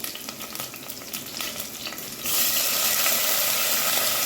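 Oil crackles and spatters in a hot pan, then bursts into a louder, steady sizzle as spices are tempered, continuing at close range.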